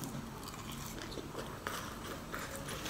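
Crunchy deep-fried pork mince salad with lettuce is chewed close to the mic, quiet crisp bites and wet mastication running continuously with faint background noise.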